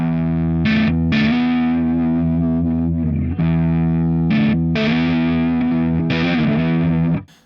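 Distorted electric guitar playing a stoner rock drone riff, sustained chords sliding between the 7th, 8th and 5th positions with a heavy droning low end, brief gaps between phrases and a fade at the close.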